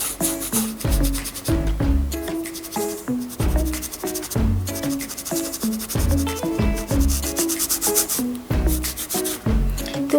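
An acrylic paintbrush blends paint across a canvas during the final touches of a sunset seascape, giving a steady, close scratchy rubbing that continues for the whole stretch with no talking.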